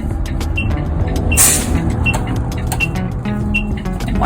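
A school bus pulls back into traffic, with engine rumble, brief air-brake hiss and passing road noise close by.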